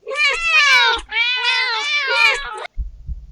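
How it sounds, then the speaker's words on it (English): Several cats meowing in the video game Do NOT Take This Cat Home, two long, loud, wavering meows close together, followed by a brief low thump. "Da sind ganz viele Katzen."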